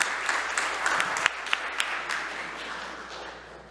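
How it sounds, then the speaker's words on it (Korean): A church congregation at a Korean worship service breaks into warm applause, a dense wash of many hands clapping that fills the room and then gradually fades away. "또 박수 한번 드릴까요?"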